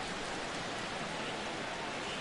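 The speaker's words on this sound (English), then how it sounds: "That rain is really coming down now." Heavy rain pours steadily over a baseball stadium during a Mets–Dodgers game, a dense, even hiss that fills the whole moment without any breaks or voices.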